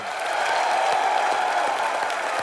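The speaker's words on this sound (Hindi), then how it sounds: "एक बार प्रियंका और उमंग कुमार के लिए जोरदार तालियां" A studio audience at a comedy show applauds steadily and warmly, a dense even wash of many hands clapping throughout with no talk over it.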